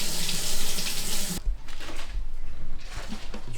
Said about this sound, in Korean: 그래서 이 부분 항상 물로 잘 헹궈주세요.